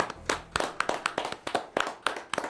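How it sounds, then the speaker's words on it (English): A brief round of applause from a small group, with sparse, distinct handclaps landing in an uneven rhythm, each sharp and fairly close, with no talk over them. "Can we give a brief round of applause?"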